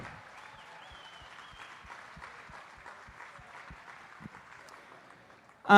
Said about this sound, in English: Really want to give a round of applause to the National Show Committee